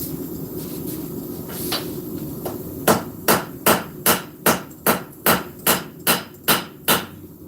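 A straight peen hammer strikes hot metal during blacksmith forging, ringing in a steady series of about a dozen sharp, evenly spaced blows after a few scattered lighter taps, loud and close.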